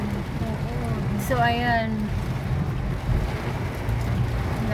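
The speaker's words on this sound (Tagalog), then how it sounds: "Malakas ng malakas ng ulan." Heavy rain pours down outdoors during flooding, a dense constant hiss with wind-like roar throughout, while a person speaks briefly over it.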